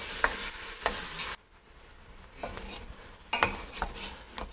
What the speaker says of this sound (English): Cook the fish bones on medium heat for about 5 minutes, stirring from time to time.